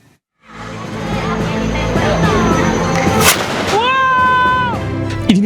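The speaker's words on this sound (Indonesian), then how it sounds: "Inilah detik-detik senjata api rakitan meledak saat dilakukan uji tembak oleh salah satu siswa di Siak." A homemade 3D-printed rifle blows apart during a test shot on a school field, one sharp loud blast cutting through a steady bed of crowd noise and voices, then a shrill whine rising and falling after it.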